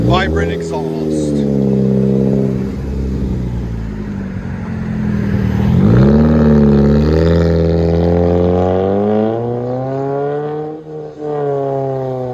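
2006 Pontiac Solstice with a 2.4L engine, Vibrant bottle resonator and muffler delete, its exhaust droning loud and close as the revs rise and fall; people talk over it.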